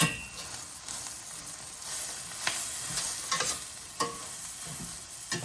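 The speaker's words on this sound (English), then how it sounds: "And now I'm going to take the rest of this bag of coleslaw. We're going to put that in the pot." Coleslaw dropped into a hot pot sizzles steadily, with a few sharp scrapes and clinks of stirring cutting through the frying hiss.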